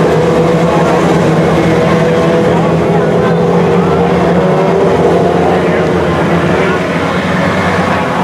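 A pack of race cars circles a dirt speedway oval, their engines roaring loud and continuous as the field bunches up before the start, with an announcer talking over the din.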